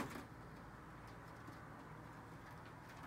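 Faint, soft pigeon coos murmur against a quiet outdoor background, low and muffled, with no talking.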